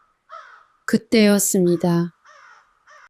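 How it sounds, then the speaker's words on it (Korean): Harsh crow caws on a snowy mountain path, several loud, closely spaced calls mixed with spoken narration and quieter calls before and after. "멀리서 들려오는 까마귀 울음뿐이었습니다"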